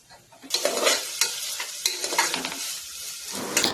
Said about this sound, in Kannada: ಇವಾಗ ನಾವು ಎಲ್ಲ ವೆಜಿಟೇಬಲ್ಸ್ನು ಕೂಡ ಇದ್ರೊಳಗೆ ಹಾಕಿ ಆಯಿಲ್ ಜೊತೆ ಚೆನ್ನಾಗಿ ಫ್ರೈನ ಮಾಡಬೇಕು